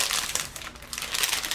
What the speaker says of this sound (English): It says to tear here, and I'm trying to tear here, and it's not tearing here.